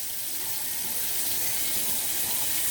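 Water runs from a kitchen tap turned on high, a loud, steady, close hiss and gush that continues unbroken throughout.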